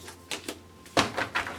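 Tarot cards shuffled by hand in a quiet room, heard as a few short papery riffles and soft slaps spaced irregularly, close and fairly faint with no talking.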